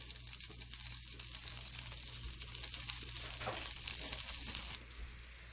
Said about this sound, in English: I'm going to add 1 clove of minced garlic to my pan.